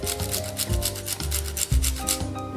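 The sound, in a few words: grating cheese over spaghetti and meatballs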